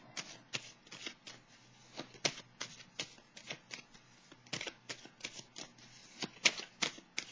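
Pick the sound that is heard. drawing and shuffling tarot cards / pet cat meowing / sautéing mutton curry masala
drawing and shuffling tarot cards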